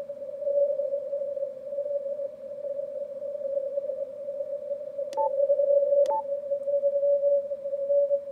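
A Yaesu FTdx5000MP transceiver sounds a continuous, steady CW sidetone with two brief clicks near the end, loud and alone.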